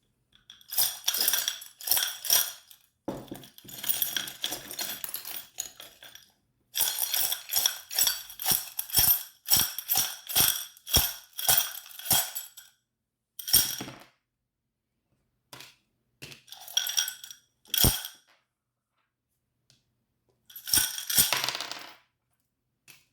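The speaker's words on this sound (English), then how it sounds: "So yeah, I'm going to shuffle them now" Crisp, rapid flurries of tarot cards riffling and slapping, close by, in several bursts separated by short pauses and a few isolated clicks.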